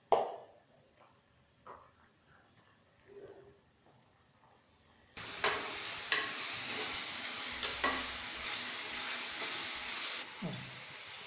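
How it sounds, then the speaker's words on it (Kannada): Green chilies and urad dal fry in a pan after a quiet start, a loud steady sizzle kicking in halfway with scraping stir strokes over it, close and continuous. "ಈಗ ಹಸಿಮೆಣಸಿನ್ಕಾಯಿ ಹಾಕ್ತೀನಿ."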